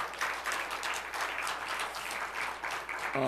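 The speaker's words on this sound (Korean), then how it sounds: "우리 격려의 박수 한번 해주시기 바랍니다" Congregation at a Friday church worship service applauding to encourage high school seniors, a steady, dense wash of clapping from many hands filling the room throughout.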